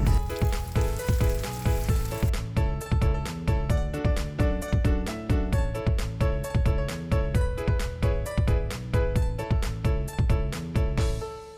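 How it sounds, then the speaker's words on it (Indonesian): Fritters and lumpia wrappers deep-frying in hot oil, a steady close sizzle with dense crackling bursts pulsing in a regular rhythm throughout, no voices. "Ini gorengan juga udah ada yang matang, dan ini ada juga yang masih digoreng."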